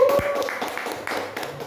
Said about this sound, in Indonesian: tepuk tangan dulu buat Kang Arul.